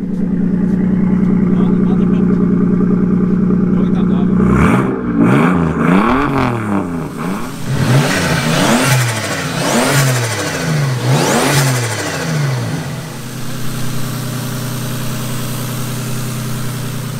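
A car hitched to a tow trailer idles steadily, then its engine revs up through repeated rising and falling pulls as it sets off, loud and close, settling back to a low hum at the end.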